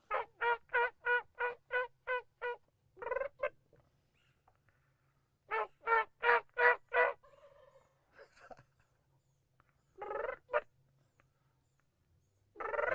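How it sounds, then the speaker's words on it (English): A turkey gobbles in rapid rattling bursts, several quick series repeating with pauses between, clear and fairly close in an otherwise quiet setting. "See if we can make him gobble."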